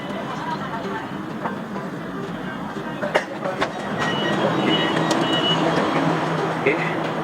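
An MRT train on the Kajang line pulling into Maluri interchange station, a steady rumble of wheels and carriage noise with a few sharp clicks, growing slightly louder midway, heard from inside the car.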